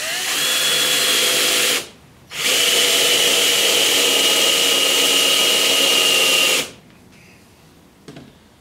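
A power drill bores a hole in wood for a woodworm screw, a loud, close, steady whine that runs for about two seconds, stops briefly, then runs again for about four seconds before cutting out.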